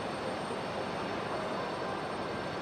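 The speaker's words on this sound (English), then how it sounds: "So this is United 1413, about to touch down." A United Boeing 737-800 in Star Alliance livery comes in to touch down at Raleigh-Durham airport in stormy weather, a steady broadband jet roar holding level throughout, fairly distant and without talk.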